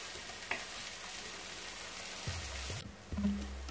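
Onions for a Moroccan tajine with green beans, sautéing in a pan with a soft, steady sizzle at moderate volume, a light utensil tap near the start and brief low scraping or stirring toward the end.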